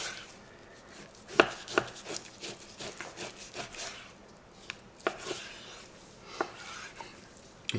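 A knife cuts sausage meat into grinder-size chunks on a board, producing a few sharp, close knocks spread unevenly between quieter slicing and rubbing sounds.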